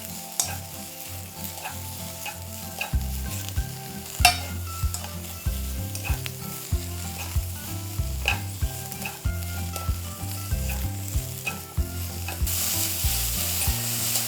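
Mushrooms stir-fried quickly in a teaspoon of oil over high heat, a steady sizzle and frying hiss with repeated rhythmic scraping and stirring strokes, loud and close with no voices.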